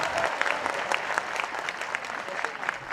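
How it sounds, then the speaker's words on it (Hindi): A large crowd at a Hindi poetry recital in Bhopal claps loudly and continuously, a thick roar of applause filling the hall throughout. "तो ताली बजाइए जोर से"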